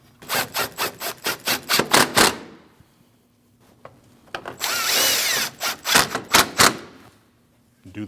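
A power drill tightens bolts on a 2014-2023 Jeep Cherokee radiator cooling fan assembly, giving two runs of rapid stuttering impact bursts separated by a quiet pause, with a brief steady whir between bursts.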